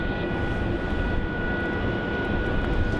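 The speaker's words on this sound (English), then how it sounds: "Bonza is lining up to the runway now as well" A Bonza Boeing 737 Max airliner lining up on the runway at Melbourne Airport, heard as a steady, broad jet engine roar with a faint whine, continuous and moderately distant.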